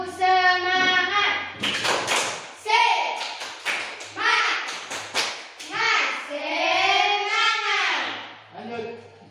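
A group of children in a classroom chant together while clapping their hands in rhythm; sharp claps and taps punctuate their loud, close voices throughout.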